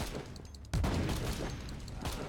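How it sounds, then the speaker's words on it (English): Gunfire in the video game Warhammer 40K Inquisitor Martyr breaks in abruptly as a dense, loud burst of rapid shots and booms that keeps going after a short lull of softer noise. "These gunshots are literally coming out of nowhere."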